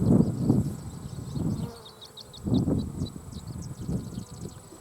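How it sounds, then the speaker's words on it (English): Nurse bees, many of them small, buzz inside an opened hive in a steady, close hum that swells and fades in uneven waves. "A lot of nurse bees, a lot of small bees in the hive."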